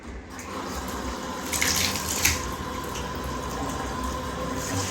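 Water runs from a tap during rinsing off at a sink, a steady near splashing stream with small bursts where hands or a cloth break the flow, no talking.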